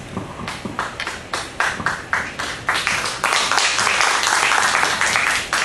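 Scattered claps build into fuller applause from an audience at a Korean progressive party leadership candidates' Q&A forum in Busan, starting as separate hand claps and swelling into a steady, dense ovation.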